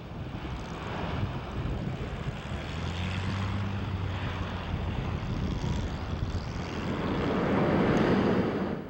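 Propeller engines of a B-17 Flying Fortress bomber at an air show drone steadily throughout, with some wind noise, swelling louder toward the end as the aircraft draws nearer.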